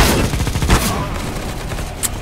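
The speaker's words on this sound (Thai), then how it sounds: "เตรียมยิงนะ" Rapid gunfire in Counter-Strike: Global Offensive, loud bursts of machine-gun shots crackling in quick succession, with a sharp single shot near the end.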